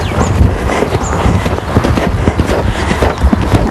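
Hooves of a ridden Standardbred horse thud in a rhythmic canter during a jumping session, close and loud over a windy outdoor rumble.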